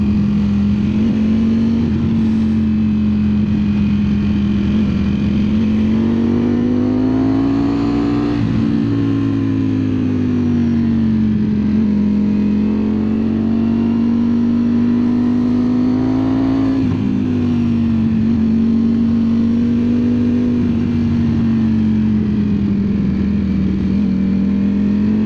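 A 2025 Ducati Streetfighter V4S engine drones steadily while riding through rainforest, its tone rising and falling gently with throttle, loud and close over rushing wind.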